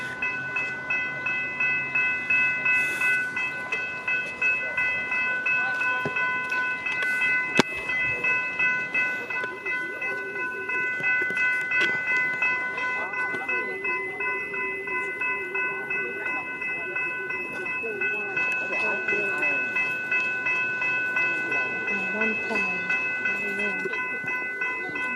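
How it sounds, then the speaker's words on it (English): A Comeng electric suburban train on the Upfield line passes Jewell Station with the level-crossing gates still down. It rumbles and clatters steadily under continuous ringing crossing bells, with a sharp clank partway through. "Comeng's train on the upfield service."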